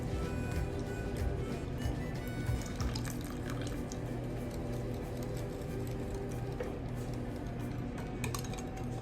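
Evaporated milk pours steadily into pumpkin pie filling, a continuous liquid rush that stays even throughout with light kitchen clatter and no talking.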